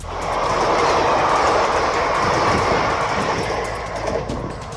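A train rumbles past a station platform at close range, a loud steady roar of wheels and carriages with faint clickety-clack, easing off slightly near the end.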